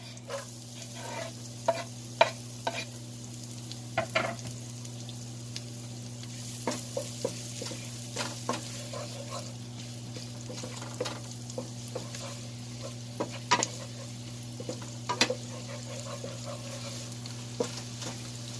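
Garlic frying in melting butter, a soft steady sizzle under a constant low hum, with occasional spatula stirs and scrapes against the pan, close by and without talking.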